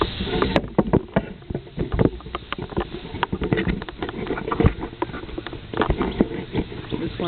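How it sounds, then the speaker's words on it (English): Camera handling in a garden, with dense rustling, scraping and knocking bumps at close range, continuous and uneven over several seconds. "I'm going to have to make noise now because I'm going to move the camera"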